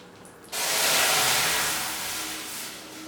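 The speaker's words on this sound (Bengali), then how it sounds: "দিচ্ছি লিকুইড দুধ হাফ কাপ" Half a cup of liquid milk hits a hot pan of ghee and bursts into a loud, sudden sizzling hiss that stays strong and slowly eases.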